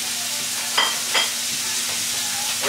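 Pork sizzles and fries steadily in hot oil in a pan, a constant close hiss with a couple of brief louder crackles and stirring scrapes, no talking.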